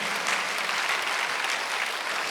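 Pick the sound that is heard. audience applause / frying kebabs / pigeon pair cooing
audience applause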